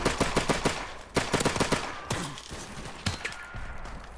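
Sniper rifle fire in Call of Duty: Modern Warfare Remastered, with several loud sharp gunshots in quick bursts and a few isolated shots with decaying echo tails, all close and punchy.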